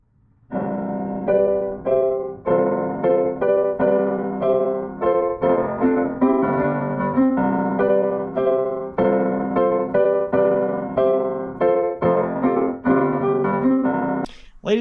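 A song's intro played on a bright, brassy synthesizer: loud stacked chords hit in a steady repeating rhythm, with no voices over them.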